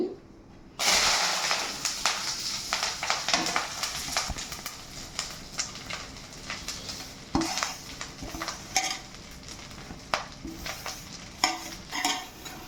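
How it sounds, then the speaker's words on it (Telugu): Drumstick leaves go into hot oil with dried red chillies and sizzle loudly right away, then keep frying under steady stirring, with spatula scrapes and clinks against the pan. "ఇప్పుడు మునగాకు వేసేద్దామండి"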